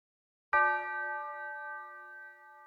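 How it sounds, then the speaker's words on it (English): A single bell hit in a rap beat rings out cleanly after a brief silence, its bright tonal partials sustaining and slowly decaying over the next two seconds, alone with no other sounds. "There's a frequency in this bell that is kind of killing me."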